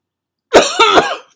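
A man coughs three times in a quick burst, close and loud, with a throaty rasp, in a quiet classroom setting during a pre-algebra lesson.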